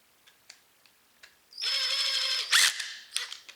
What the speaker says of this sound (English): and then lightly snug it until you feel the rubber washer start to compress